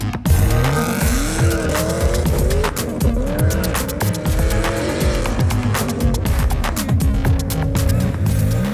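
A street car makes a hot launch at an auto test during a street car invitational event, its engine roaring hard as the tyres squeal loudly and continuously, close and intense, with no talking.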